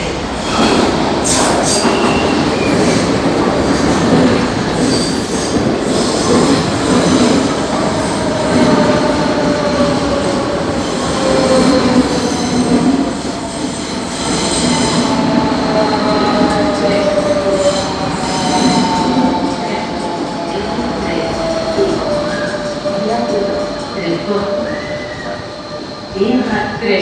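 A Rodalies Renfe class 447 commuter train pulls into Plaça de Catalunya station, its wheels squealing in long, shrill, shifting tones over a steady rumble of rolling wheels and carriages.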